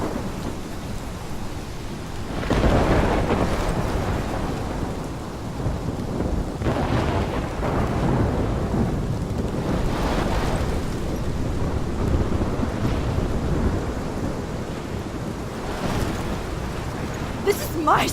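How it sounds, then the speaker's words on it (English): Thunderstorm in the video game Life Is Strange: steady heavy rain with repeated deep rolling thunder swells, loud and enveloping, continuing without a break over a long stretch. "This is my storm."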